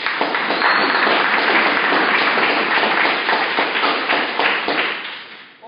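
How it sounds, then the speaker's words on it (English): Dense applause fills the room, loud and close, a steady wash of many hands clapping that holds for several seconds before tapering off at the end. "Clap it up."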